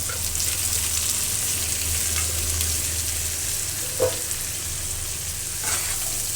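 Chopped onions and green chilies frying in oil for fried rice, a constant close sizzle with a low steady hum beneath and a couple of brief clinks from stirring, no speech.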